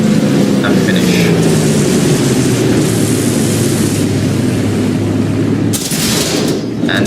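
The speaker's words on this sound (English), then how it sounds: "And there's the finishing shot." A tank cannon shot in War Thunder, fired from a Leopard I on the flank to finish off an enemy tank, comes as a heavy boom amid loud, continuous battle rumble and engine drone, with talk over it.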